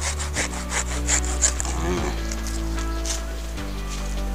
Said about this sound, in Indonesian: Nah, bagian ini juga sekalian dipotong, mepet saja.